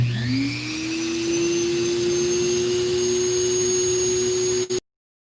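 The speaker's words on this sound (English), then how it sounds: "It's going to get loud. I'm turning on my Dremel." A Dremel rotary tool with a diamond bit spins up into a loud, steady high-pitched whine while drilling a hole in a small stone ball. It holds nearly constant for about four and a half seconds, then cuts off abruptly.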